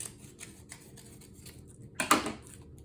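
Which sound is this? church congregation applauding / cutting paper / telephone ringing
cutting paper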